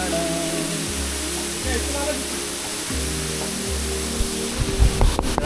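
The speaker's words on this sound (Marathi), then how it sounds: "तो धबधबा आपल्या जवळ आलेला आहे" Continuous rushing water from Tulshi Waterfall fills the scene, a steady broadband roar, with low rhythmic rumbling and a few thumps near the end.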